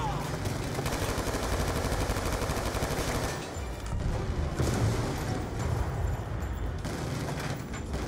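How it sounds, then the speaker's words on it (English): Rapid automatic turret fire rattles in Black Ops 2 on Veteran difficulty, dense bursts of shots with booming impacts, loud and close, briefly easing midway before resuming. "Oh no, that's a turret."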